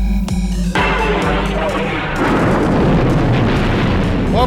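The Death Star destroying the planet Alderaan in Star Wars, a few sharp blasts and then a loud, rumbling explosion that roars on and spreads for several seconds.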